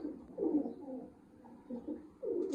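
Pigeons coo in a few soft, rolling phrases nearby, with pauses between calls and no talk.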